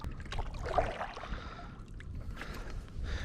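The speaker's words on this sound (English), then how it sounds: "so I'm going to paddle through the patch again" A kayak paddle dipping through water while fishing for redfin, soft close splashes and swishes in an uneven rhythm over gentle ambient wash.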